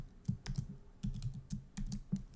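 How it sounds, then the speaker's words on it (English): Close computer keyboard typing in short irregular bursts of crisp keystrokes with brief pauses, and no one speaking. "I can't talk and type at the same time."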